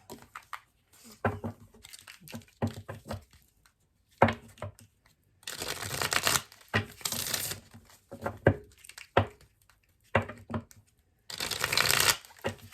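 Tarot cards are shuffled in repeated bursts of crisp riffling and flapping, close and fairly loud, separated by short pauses.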